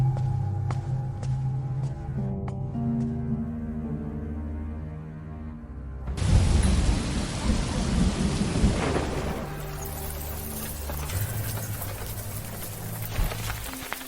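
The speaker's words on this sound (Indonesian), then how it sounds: "Hujan sebesar ini." Heavy rain pours steadily while deep thunder rumbles and then cracks loudly midway, followed by a sustained downpour with rolling thunder in the background.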